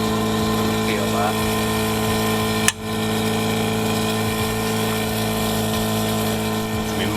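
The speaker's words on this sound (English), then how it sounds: "So that's obviously the air ride controller. That's in and working." The air ride suspension controller on a Subaru SVX hums and whirs steadily up close like a small pump, with one sharp click partway through and a voice faintly underneath.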